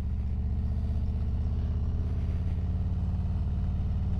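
A Harley-Davidson motorcycle fitted with Factory 47 14-inch Legacy handlebars rides through parking lots: a deep, throbbing V-twin engine rumbles steadily and close at low speed, with an even pulsing beat throughout.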